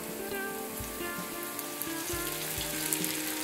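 Noodles fry in a pan with a steady close sizzle that crackles like rain and runs throughout, with faint scrapes from stirring and no voices.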